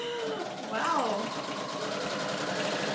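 A compact sewing machine runs steadily for a few seconds as it stitches through the paper pages of a handmade mini book, a close, continuous mechanical whir with a brief rise in pitch near the start.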